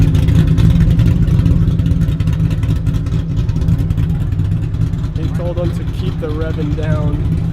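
The engine of a Koenigsegg Agera XS at a Florida cars and coffee meet rumbles loudly and close, settling from a rev into a deep idle while people talk over it.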